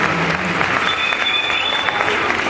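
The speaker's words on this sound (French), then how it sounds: "on peut l'applaudir d'ailleurs" Audience applause at a Disney Studios Paris stunt show greeting a movie villain's stunt car, a steady wash of clapping from a large crowd with a few faint voices mixed in.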